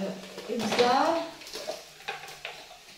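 A spoon scrapes and stirs through salt, red pepper, ginger and a spice blend in a cooking pot for a meatless Iraqi maqluba, with soft clinks against the metal and faint frying underneath. Brief murmurs of a voice sit quietly in the background.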